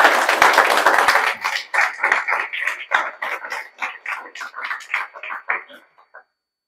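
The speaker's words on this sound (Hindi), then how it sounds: "उसके लिए जोरदार ताली बजा दीजिए" Applause from an audience honouring students who secured their chosen branches at prestigious NIT and IIIT institutes after JEE Main 2025, starting as dense loud clapping, then thinning into scattered claps that fade out after about six seconds.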